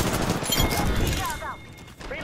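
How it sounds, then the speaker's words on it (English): Rapid gunfire bursts in the Apex Legends video game, played on PC, dense and loud at first and then easing off, with voices talking over the shooting. "They're shooting at us."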